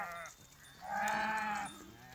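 A flock of sheep grazing on farmland beside a cotton field, with one loud, wavering bleat standing out over the soft bleats and rustle of the flock, and no talk.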